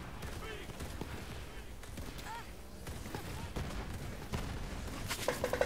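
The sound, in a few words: gunfire in video game Borderlands 3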